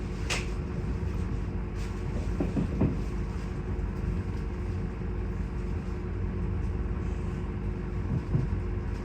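A moving train near Frederikshavn, heard from inside as a steady low rumble and hum with faint creaks and knocks from the carriage throughout.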